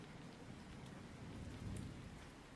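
Rain falls as a steady, faint hiss on surfaces, with a low rumble of thunder swelling briefly near the end.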